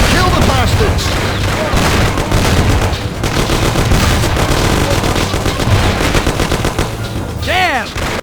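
A parking lot shootout in the video game Mafia fills with loud, rapid gunfire, dense bursts and single shots overlapping almost without pause, plus a ricochet-like whine near the end.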